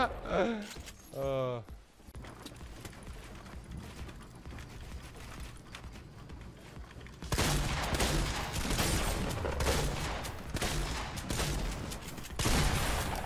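Gunfire in the video game Fortnite, bursts of shots and mechanical reloading clatter that grow louder and denser in the second half, with a voice talking early on.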